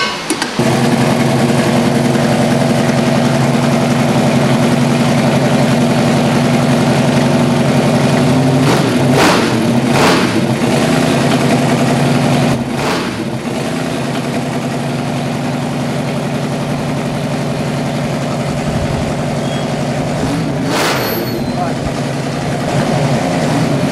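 Chevrolet big-block engine in a truck build idles steadily and loud up close, a rough low rumble with a few brief revs midway, people talking faintly underneath.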